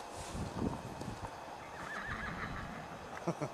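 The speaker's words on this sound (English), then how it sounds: "Who's that? A horse." A horse whinnies in a long, wavering neigh, moderately close but faint, over a rough outdoor background with a few thumping hoof-like knocks.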